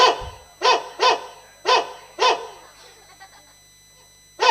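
A dog barks four times in two quick pairs, loud and close, then quieter yips and whimpers trail off into near silence.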